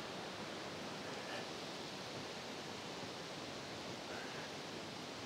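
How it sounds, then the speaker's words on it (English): Waterfall at Foster Falls gives off a steady, broadband rush of falling water, faint and distant, continuous without breaks. "And then over there is the waterfall."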